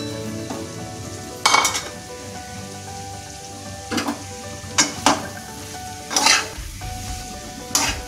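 Chopped ash gourd sizzles in hot spice masala in a pan, a steady frying hiss broken by several sharp clanks and scrapes as a spatula stirs and tosses the pieces.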